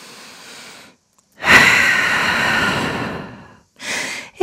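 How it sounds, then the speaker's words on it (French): A long, deep breath is drawn and released during a downward dog yoga pose. It comes as one loud, airy exhale after a brief silence, followed by a shorter breath. "Grande respiration en chien tête en bas"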